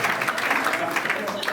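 A live audience at a Hindi comedy mimicry show claps together on cue, a steady, dense wash of applause holding evenly throughout with voices mixed into it.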